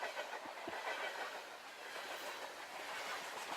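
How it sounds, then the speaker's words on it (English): A train sample used in music production rolls by at a distance with a low steady rumble and faint clickety-clack wheel rhythm, quiet and continuous. "So this is a audio sample of a train."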